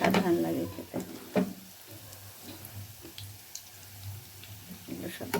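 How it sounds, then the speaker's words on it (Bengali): Cabbage pakoras fry in hot oil until red-brown, giving a soft continuous sizzle broken by occasional clicks of a stirring utensil. "ভালো করে লাল লাল করে ভেজে নেব"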